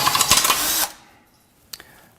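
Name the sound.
power drill drilling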